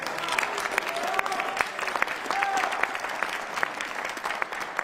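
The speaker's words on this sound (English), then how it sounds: "give yourselves a round of applause for being here, for showing up" An audience at a Salt Lake County political debate gives itself a round of applause, with brisk clapping from a moderate crowd, distinct individual claps standing out, and faint voices mixed underneath.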